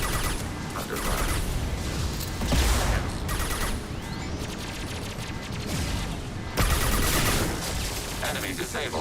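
Heavy gunfire in the video game Mass Effect 2 during a battle: dense, continuous shooting and explosive bursts that stay loud throughout, with several sharper surges and mechanical clatter in the mix.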